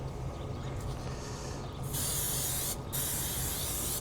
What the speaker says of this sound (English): And then we'll go in with that Pam spray.